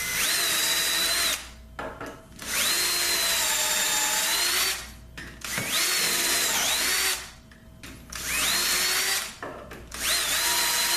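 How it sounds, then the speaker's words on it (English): A power drill bores holes through a jig plate in four loud sustained runs, the motor whining at a steady pitch, separated by short pauses and clunks as the bit is lifted and repositioned. "I'm just gonna drill the same 2 holes"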